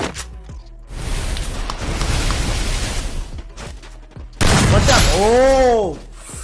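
Gunshots from a shooting video game come as a dense burst of blasts followed by a loud shattering crash and a ringing tone, all close and loud.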